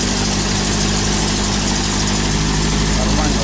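A UAZ engine running at a steady idle right after starting on a new battery, loud and close with constant low rumble and vibration throughout.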